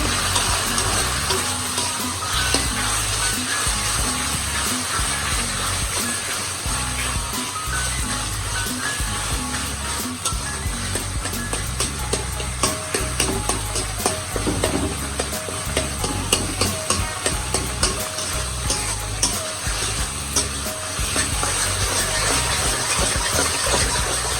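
Spiced colocasia (taro) leaves being stirred in a pan for a vegetarian dish, giving a steady sizzle and frying hiss with repeated scraping stirs that grow busier midway, close and fairly loud, with no talk.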